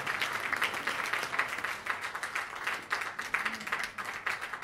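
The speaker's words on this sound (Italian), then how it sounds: "Facciamo un applauso al presidente" Applause for the president at an award ceremony in a theatre: soft, fairly distant clapping from the audience, sustained and even for several seconds.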